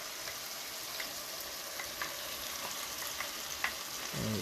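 Meat and browning sugar being stirred in a pot for a Caribbean pelau with mushroom meat substitutes, a constant soft sizzle dotted with light scraping taps, fairly quiet and without speech.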